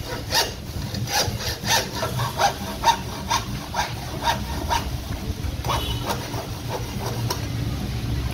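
Rough, rhythmic scraping of sandpaper on a mountain bike part during a fork install, repeated strokes in a steady back-and-forth pattern, close by.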